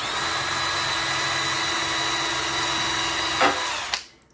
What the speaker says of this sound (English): We got a drill.